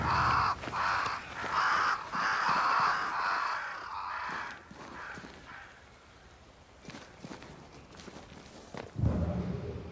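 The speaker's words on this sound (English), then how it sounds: "Crows. They flock to that great tree up there." Crows caw repeatedly in Banishers: Ghosts of New Eden, several harsh calls in quick succession at moderate distance, followed by soft footsteps and quieter ambience.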